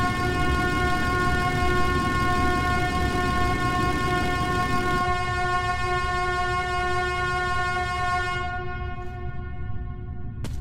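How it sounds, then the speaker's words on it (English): A train horn from the video game Metro 2033 blares continuously and loudly for about ten seconds, a steady chord of stacked tones over rumbling rail noise, easing slightly near the end. "I had to get my last honks in."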